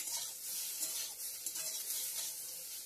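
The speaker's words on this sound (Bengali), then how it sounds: "করলা ভাজাটা করে নিচ্ছি এখন" Bitter gourd slices frying in a pan, a faint, steady, close hiss with light stirring scrapes throughout and no speech.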